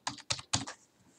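Three quick keystrokes click on a computer keyboard, close and faint, in a short uneven rhythm.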